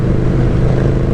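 A 2021 KTM Super Duke R ridden slowly, a loud continuous low engine rumble mixed with wind noise, brief and steady, no talk.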